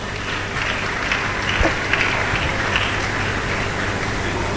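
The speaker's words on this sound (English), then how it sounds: "Was that clap for me," Steady, dense applause from a large audience at an education summit, a continuous rain-like wash of many hands clapping at an even level throughout, with no talk.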